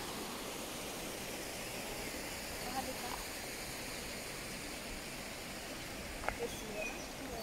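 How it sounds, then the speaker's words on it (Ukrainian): Mountain stream running between rocks below a small waterfall in Divoká Šárka park, Prague: a steady, even wash of flowing water that stays close and moderately loud throughout, with no talk over it. "Гірський струмок."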